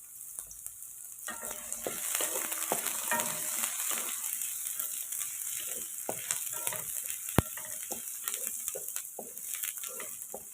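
Onion, garlic and chili sautéing in a pan for ginataang bagoong, a steady close sizzle with scattered spatula scrapes and stirring clicks throughout, no talking.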